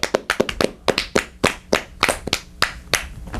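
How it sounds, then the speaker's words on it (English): Hands clapping in a studio audience to welcome a guest, sharp close claps in an irregular, sparse rhythm, each crack distinct, with no voices. "You start clapping there"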